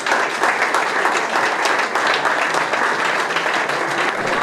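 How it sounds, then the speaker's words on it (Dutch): Loud, dense applause from an audience at a Dutch equestrian ceremony naming an Olympic horse, many hands clapping in a continuous close roar without pause for over four seconds. "Graag een groot applaus."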